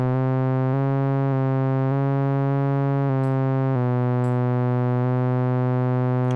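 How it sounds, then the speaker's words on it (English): A steady Oberheim OB-Xa synthesizer tone jumps between random pitches via sample-and-hold modulation in even steps, each held about half a second, sounding alone. "you're going to hear different random pitches"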